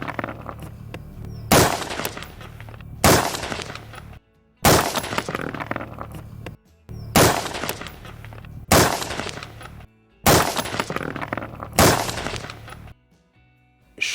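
Rifle shots from a played video ring out loud and sharp, several heavy cracks in irregular clusters separated by brief silences, with no speech over them.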